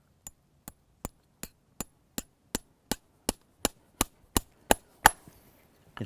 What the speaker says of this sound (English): So listen to the sound of the hammer.